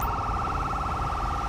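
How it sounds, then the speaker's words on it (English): A police car siren wails in the video game GTA 5, a steady, loud, fast-cycling electronic tone that holds unbroken from start to finish, close and clear with no talk over it. "siren just, you know, continues to go on"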